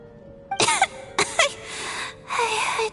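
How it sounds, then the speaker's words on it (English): A character in the Genshin Impact video game coughs several times in short, harsh bursts, close and fairly loud, with a brief breathy pause between them. "How long have you had that cough, Tonya?"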